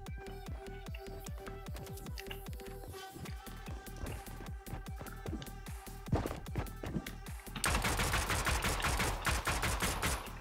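Fast, evenly spaced shots rattle like a machine gun in a Fortnite match, then give way near the end to a denser, louder burst of firing.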